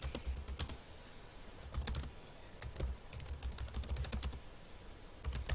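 A question is typed on a computer keyboard into an OpenOffice PDF form: bursts of quick, crisp key clicks with short pauses between them, close and fairly quiet.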